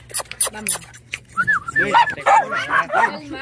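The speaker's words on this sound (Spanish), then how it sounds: "llevemos al perrito" A dog gives short yips and whimpering barks up close, alternating with people talking nearby over a low steady hum.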